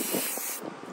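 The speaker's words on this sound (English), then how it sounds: "I wanted to give you a close-up of how it looks when you spray paint the water." A spray paint can sprays metallic gold onto water to hydro dip a vase, making a close, loud, steady hiss that lasts about a second.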